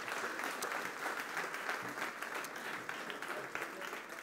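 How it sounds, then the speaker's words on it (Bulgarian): Audience applause at a live science-themed stage show, a steady dense wash of many hands clapping that carries evenly from start to finish at moderate loudness, with no words spoken over it. "Така че аплодисменти за тези хора."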